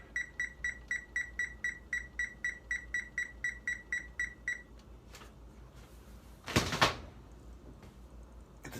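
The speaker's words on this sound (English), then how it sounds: "Get the timer set." A kitchen oven timer being set gives a steady run of about fifteen short, bright electronic beeps at an even rhythm, close and clear, followed by quiet room noise and a brief loud clatter.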